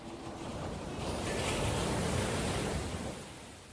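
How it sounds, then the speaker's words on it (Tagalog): Ocean waves wash steadily onto a beach, a broad continuous surf roar that swells slightly in the middle and eases toward the end, with no voices. "Naaaliw na pinagmasdan ni Lucas ang pakikipaghabulan ni Maria sa mga alon."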